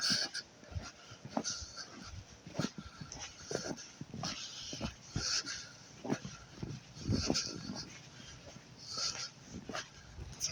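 A dog whimpers, yips and pants nearby over several seconds, with scattered faint barks and a few muffled voices in the background.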